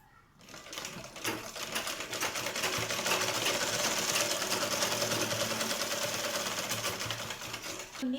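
Sewing machine stitching a kids' lehenga, a loud, close, steady mechanical whirr that ramps up after a brief start and runs continuously for several seconds, with no speech over it.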